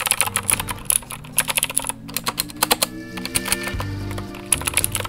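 Rapid clicky keystrokes on an Anne Pro 60% mechanical keyboard with Gateron Blue switches, close and crisp, typed in uneven bursts with a brief pause partway through.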